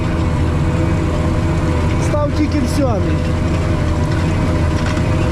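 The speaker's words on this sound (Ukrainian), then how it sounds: "Трактор от під таку серйозну горку йде, майже без пробуксовок." A heavy tractor engine drones steadily and loudly throughout, straining under load while climbing a steep hill in a field, with someone talking over it.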